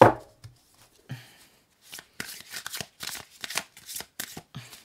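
A new deck of tarot cards is shuffled by hand close up, a string of quick crisp riffling bursts that get denser after a soft, sparse start.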